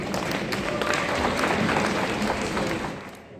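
A seated audience claps to welcome a Lions district governor at a district officers and club seminar, steady broad applause from the crowd that holds for about three seconds and then fades away.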